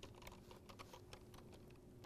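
Quick, fairly quiet clicking of computer keyboard keys in short bursts during tax accounting software data entry, steady and close with no talk.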